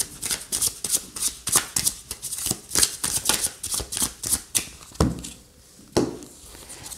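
Tarot cards are shuffled and drawn by hand, a close run of crisp riffling flutters and soft slaps coming in quick rhythmic bursts, then a few separate card snaps with pauses between.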